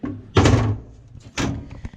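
The back door of a camper van is opened, giving two heavy metallic thunks and rattles about a second apart, loud and close.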